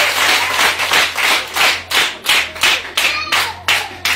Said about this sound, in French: acclamez du fond